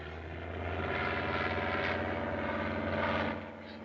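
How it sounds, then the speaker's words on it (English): A steady propeller-engine drone fills the air, a propeller plane passing fairly close overhead and fading slightly at the end. "It's only an airplane."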